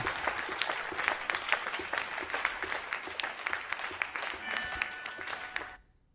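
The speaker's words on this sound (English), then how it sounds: "Also the orchestra starts clapping." Orchestra players clapping as part of a musical piece in a concert hall, rapid rhythmic claps spread across the ensemble, steady for several seconds before stopping abruptly.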